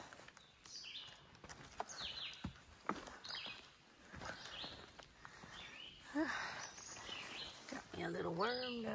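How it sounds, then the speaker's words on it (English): Birds chirp and call intermittently in woods along the Appalachian Trail, mixed with rustling and footstep-like sounds, with a clearer song burst near the end. "Just listening to the birds."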